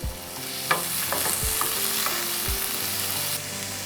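Chopped tomatoes and finely chopped garlic cook in a hot pan, giving a loud, steady sizzle close up, broken by a few soft stirring scrapes.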